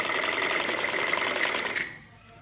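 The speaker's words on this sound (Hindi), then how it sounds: "ये इसके चारों तरफ हम ऐसा सिलाई देंगे तो ये हमारा फोम कवर तैयार हो जाएगा" A sewing machine stitches around the edge of a homemade foam cover, running in a loud, steady, rapid whir close by before stopping abruptly near the end.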